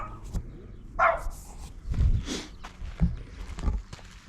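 Two dogs bark on a heathland trail at a Onewheel XR rider at Canford Heath in Poole, UK: several short sharp barks, close and uneven, over scuffing ground noise.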